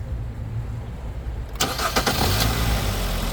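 A 2012 Hyundai Tucson with a suspected alternator fault cranks briefly and catches, settling into a steady idle close by after a quiet moment.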